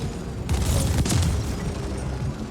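Rumbling booms and bursts from explosions in the top-down cyberpunk shooter The Ascent, a loud dense blast swelling then settling into a continuous roar.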